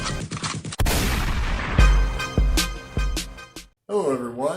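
Sharp gunfire bursts crack out one after another, a burst of rapid shots followed by several heavy booming reports, loud and close, with a brief silence before a voice-like warbling tone at the end.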